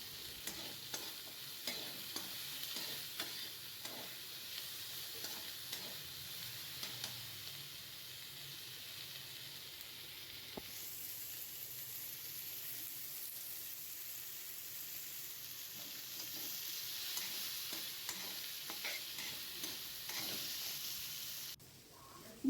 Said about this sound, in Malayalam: കുറച്ച് എണ്ണ ഒഴിച്ചും കണ്ട് ഇത് നല്ലൊന്ന് വറുത്തെടുക്കണം